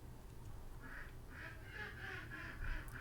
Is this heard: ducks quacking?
yes